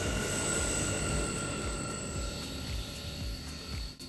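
An Amtrak Northeast Regional passenger train arriving at a station rumbles steadily with a faint high-pitched wheel squeal and rhythmic clacking of wheels over track joints, loud and continuous.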